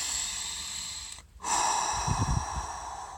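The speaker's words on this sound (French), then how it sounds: "Tu prends 25 à 30 respirations comme ça." Deep, forceful breaths in the Wim Hof breathing technique: a breathy rush, then a short pause before another loud, rhythmic inhale and exhale, close and unaccompanied by talk.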